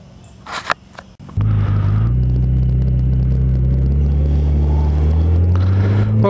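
A Yamaha FJR motorcycle starts up after a few clicks and handling noises, then its engine rumbles loudly and steadily up close, the pitch slowly rising as it moves off.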